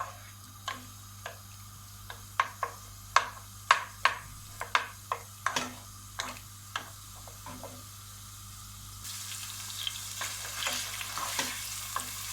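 Finely diced chicken breast sizzles quietly in oil in a pot while a utensil taps and stirs in a steady series of sharp clicks, the frying growing louder near the end.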